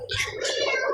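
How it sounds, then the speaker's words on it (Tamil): A cat meows in a Tamil-language video game, one drawn-out, fairly loud call lasting under a second, with no talking over it. "என்னடா பூனை கட்டிட்டு இருக்கு வெளியே?"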